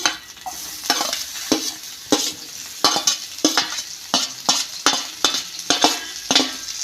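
Thinly sliced onion frying in paneer-flavoured ghee in a pan for Kerala-style paneer masala, a steady close sizzle broken by regular scraping stirs roughly every half second, with no talking.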